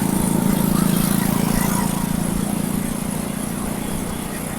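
Honda Supra Fit underbone motorcycle being ridden, its small engine giving a steady droning hum with constant wind rush, continuous and fairly loud from the rider's position.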